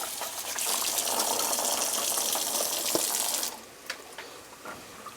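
Potatoes rinsed under a running kitchen tap: a steady gush of water pours for a few seconds, then cuts off, leaving faint splashes and drips.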